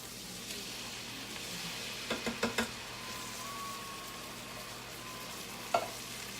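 Diced tomatoes cook in a pan for a holiday dinner sauce, giving a quiet, steady sizzle with a quick cluster of utensil knocks midway and one sharper tap near the end.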